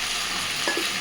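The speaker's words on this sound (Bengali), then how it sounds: "এইবার আমি ভেজে রাখা আলুগুলোও দিয়ে দিচ্ছি।" Fried potatoes tip into a pan of chicken kosha already sizzling in spiced masala, a steady close hiss with a soft thud and stir about midway through the brief moment, with no voices.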